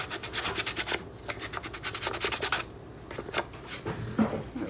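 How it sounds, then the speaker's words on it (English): Light sanding with 400-grit sandpaper on a Crystalac-coated popsocket: steady rhythmic scratchy strokes, close up, in quick back-and-forth passes with a brief pause partway through. "I am gonna give it a light sanding with my 400 grit sandpaper"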